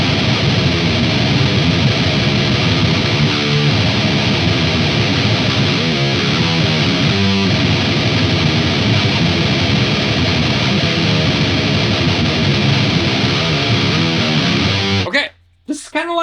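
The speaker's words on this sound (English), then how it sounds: "This is just raw, brutal death metal tones." Electric guitar through an Ampeg VH140C amp driving an oversized 4x12 cabinet, mic'd with an SM57, dialed for raw death metal distortion: a sustained, heavily saturated chugging riff with a few shifting chords, cutting off abruptly near the end.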